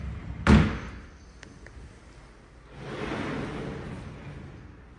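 A single sharp thud of a sliding door closing, then quiet, followed by a soft rushing swell of background noise.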